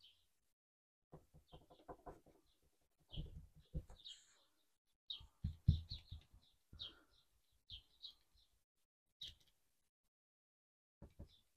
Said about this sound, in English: I don't know if you can hear the little birds in the background.